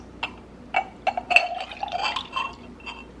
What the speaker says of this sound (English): We're gonna try to pour this in here without spilling it.